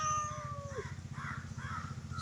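A house cat in a village home gives faint, short meows over a low, steady rhythmic hum, with a thin rising-falling tone near the start.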